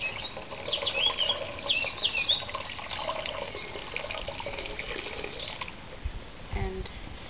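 Spun wool being hand-washed, water sloshing and dripping softly with wet handling noises throughout, a couple of brief louder splashes near the end, no talking.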